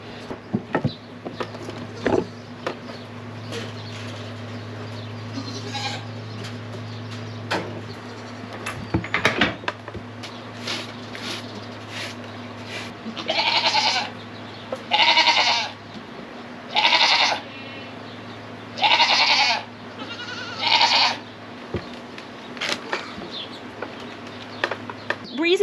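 A Nigerian Dwarf goat herd bleats in a series of loud, repeated calls, several distinct cries in a row, over a steady low mechanical hum on a homestead.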